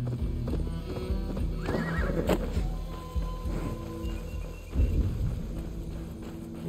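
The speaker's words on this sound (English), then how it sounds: "I should probably get my horse." Horse in the video game Assassin's Creed Valhalla, with steady hoof clip-clops, a clear neigh partway through, and a second whinny-like burst later, all close and over faint forest ambience.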